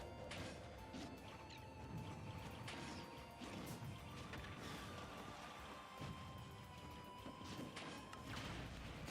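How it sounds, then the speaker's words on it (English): A TNT explosion lands a heavy hit in a Super Smash Bros amiibo tournament match, a sharp crash amid busy game noise, clattering impacts and a steady background tone, with no talk. "a big hit from that TNT"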